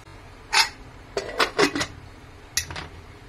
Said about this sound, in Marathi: कुकरमध्ये मी 2 ग्लास पाणी घातलेलं आहे। ह्याच्यात आपल्याला झाकण लावून घ्यायचं आहे।